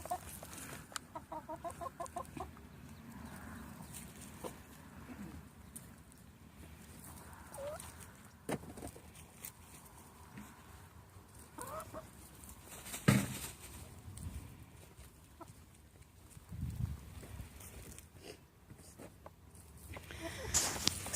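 Hens cluck and murmur intermittently at a moderate distance over an outdoor background, with a few sharper knocks and scuffs mixed in.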